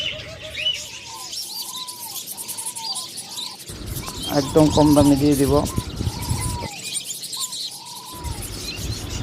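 Caged birds at a bird seller's, including lovebirds, budgerigars, Java sparrows and doves, chirp and coo continuously in overlapping bursts while someone talks over them.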